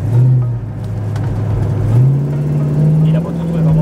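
Ford Mustang engine droning close by as the car drives, its low tone rising and settling through gear changes under a steady road rumble.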